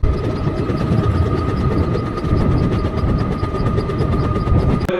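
Sabari Express, a 17229 train of ICF coaches, runs steadily between Ottapalam and Palakkad in Kerala, a loud continuous rumble of wheels and rail with a thin tonal whine throughout, heard from inside the carriage.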